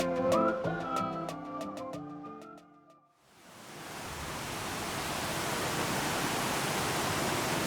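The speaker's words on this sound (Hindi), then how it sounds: "अब हम आ गए हैं इस ब्यूटीफुल रिवर के पास, इसकी मन को सुकून देने वाली आवाज़ सुनने के लिए।" A river near a bridge on a mountain trail in the Kasol area, heard as a steady broadband rush of flowing water. It swells in after a few seconds of soft melodic music and stays loud and even.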